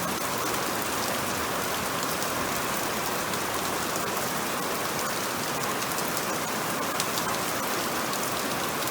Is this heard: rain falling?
yes